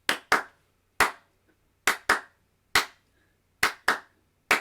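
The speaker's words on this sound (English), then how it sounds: "the double clap on the 2 and then 1 on the 4, like this" Crisp, close hand claps in a rock pattern repeated in a steady tempo, a quick double clap followed by a single clap, each sharp and dry against silence, performed by a teacher for kids.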